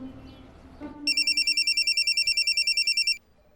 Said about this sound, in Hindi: आदि सर को फोन लगा और बता क्या हो रहा है